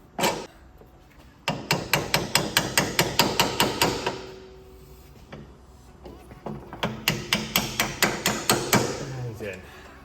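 A hammer strikes a bolt into the lower control arm of a crashed first-generation Honda CR-V suspension, two bursts of rapid, loud metallic blows close by, separated by a short pause.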